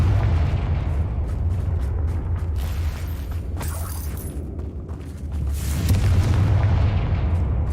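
Loud, dense blasts and rumbling destruction from Confringo spell explosions in Hogwarts Legacy, a continuous heavy roar of booms with a crashing surge near the end, no talk over it.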